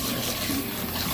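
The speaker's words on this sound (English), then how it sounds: "I just kind of rinse that off a little bit on the back" Running water rinses the back of an old cast iron camping pan, a steady close splashing flow with no pauses.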